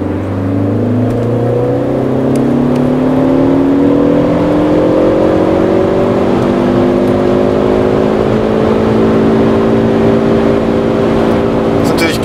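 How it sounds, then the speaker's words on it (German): A Ford Focus ST with a new exhaust and software tune accelerates hard from low revs through the gears, its engine droning loud and close as the pitch climbs steadily, with a voice speaking over it. "Indem wir aus dem Drehzahlkeller raus beschleunigen, weil dann können wir nämlich auch schön sehen, wie der Ladedruck einsteigt"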